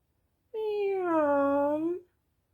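A single drawn-out cat meow, harmonic and rising then falling, about one and a half seconds long and close, heard alone with no other sound; in context it is a voice imitating a mother cat among her kittens.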